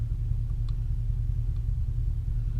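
Chevrolet SS car cruising down the road, heard from inside the cabin as a steady low engine and road rumble, with a couple of faint light clicks.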